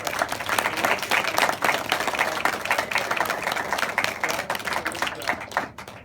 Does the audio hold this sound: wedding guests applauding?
yes